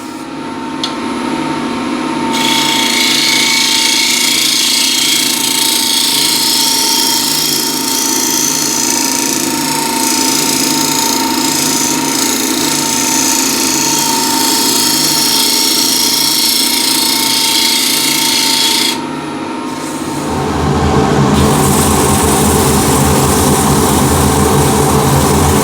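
Power sanding of a wooden craft piece, a steady loud whirring drone that runs continuously for most of the stretch, briefly dips, then resumes with a rougher, lower grind near the end.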